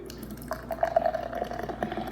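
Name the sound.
pouring Red Velvet Ale beer into a glass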